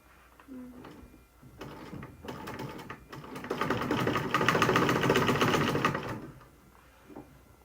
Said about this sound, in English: I'm just going to sew around it, making sure that it's not like folding or bulging